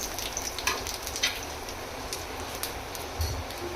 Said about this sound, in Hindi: इसका ये तड़का देने वाले हैं शेफ